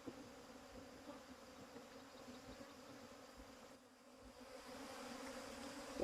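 Wild cavity-nesting honey bees crowd a hive full of drones, making a continuous, close, buzzing drone with soft wingbeat flutters. The sound dips briefly, then swells louder again.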